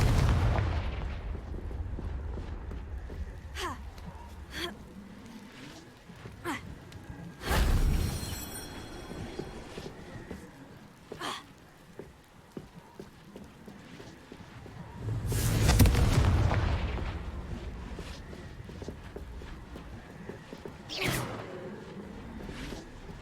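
Confringo spell blasts in the video game Hogwarts Legacy, a handful of booming explosions spread across the clip with sharp cracks and rumbling tails between quieter spells and whooshes, no talking.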